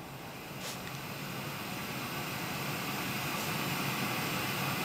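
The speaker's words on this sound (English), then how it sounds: "play some white noise." White noise played from a Google Nest Mini smart speaker, a steady broadband hiss that holds evenly for the whole stretch at a moderate, constant level with no voices.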